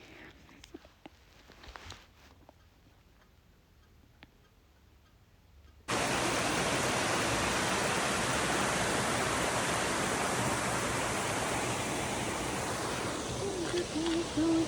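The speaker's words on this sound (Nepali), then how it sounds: "खोलाको कलकल साउन्ड झन् मजा आउँछ नि त" A babbling mountain stream bursts in suddenly after a quiet stretch and becomes a loud, steady rushing of water that continues to the end.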